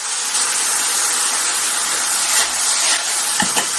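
Oil and mirin sizzle loudly and steadily in a hot pan over mashed lotus root, a dense continuous hiss with a few sharp crackles near the end.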